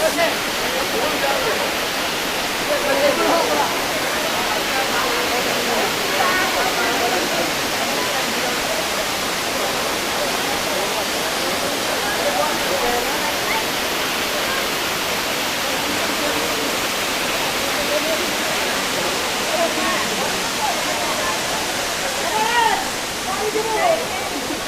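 Rushing water of Khuludi Waterfall on Malyagiri mountain, a steady, loud, broadband roar that holds unbroken throughout with no pauses.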